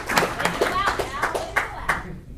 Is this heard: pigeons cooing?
no